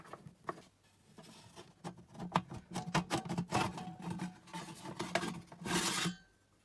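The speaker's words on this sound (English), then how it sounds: "take these screws out." Screws are backed out of the metal casing of a Simran SM-1000 1 kW step-up/down voltage converter, giving close, quiet scraping and ratcheting rasps in irregular bursts that end with a longer grinding squeak.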